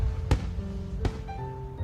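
Fireworks from the visual novel Katawa Shoujo, with two dull distant booms about a second apart over a low background hum and soft tones.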